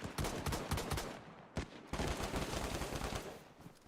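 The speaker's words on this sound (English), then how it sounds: "someone's just been shot there" Rapid gunfire rattles through a DayZ match in Chernarus: dense, loud bursts of repeated shots with a brief pause, then another long volley of sharp cracks, no voices over it.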